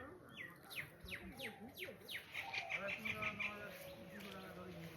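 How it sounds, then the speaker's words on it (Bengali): Several birds chirp and tweet close by in a green village with mud houses and a pond, giving quick repeated calls and a short trill over faint background ambience. "এই যে পাখির আওয়াজ কত সুন্দর লাগছে"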